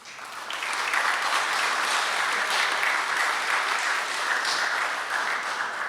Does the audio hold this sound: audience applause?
yes